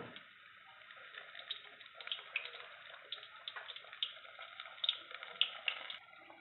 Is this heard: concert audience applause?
no